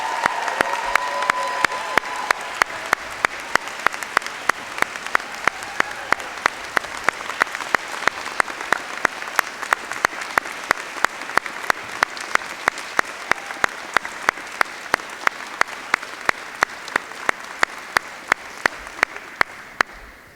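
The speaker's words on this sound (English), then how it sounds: "I would like to give our Chief Faculty Marshal a big round of applause" A convocation audience at Longwood University applauds the retiring Chief Faculty Marshal, giving sustained, dense clapping that fills the hall evenly for about twenty seconds before easing off at the end.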